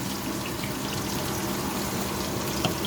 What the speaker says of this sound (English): So I'm using cold water and just a little bit of millimere